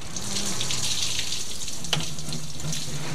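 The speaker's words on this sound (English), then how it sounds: "The flow from the pipe originates from a spring hidden from public view a bit to the west." Spring water pours continuously from an outdoor pipe at a public well, a loud, steady hissing gush with a faint low tone beneath and one small splash near the middle.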